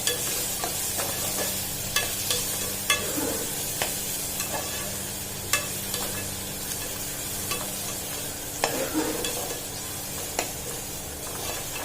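Ginger garlic paste sautéing in a pan for thanni salna, with a spatula scraping and tapping at irregular intervals over a soft, steady sizzle and a low background hum.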